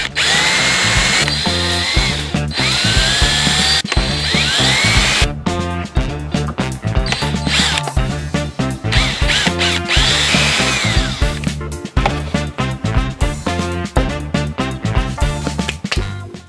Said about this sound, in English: I've got to drill loads of holes in these and hopefully get them at the right angle